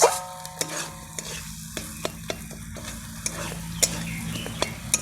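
Spices for paneer butter masala being stirred and fried in oil over a clay stove, a soft continuous sizzle punctuated by regular scraping knocks of a spoon against the pan.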